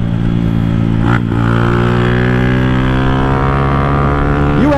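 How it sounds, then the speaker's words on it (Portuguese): A small motorcycle's loud exhaust drones at a steady high idle and revs, with brief pitch dips and rises from the engine, close up and continuous without talk. "Esse escapamento berra, rapaziada."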